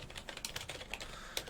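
An RGB membrane keyboard from a budget gaming PC setup, typed on in a fast, steady patter of soft, muffled keystrokes, close and fairly clear.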